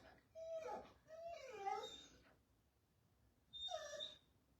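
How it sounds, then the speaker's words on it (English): A dog whimpers softly indoors after being woken, in a few high, whining bursts separated by a short pause, fairly close and quiet. "That's on me because I woke the dog up."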